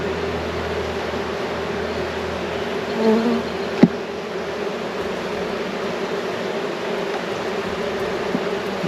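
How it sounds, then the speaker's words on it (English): A steady, dense buzz of many excited honeybees, continuous and close, with one brief sharp tap partway through. "Now these bees are smelling the other stinger, so they're getting excited and trying to sting the glove too"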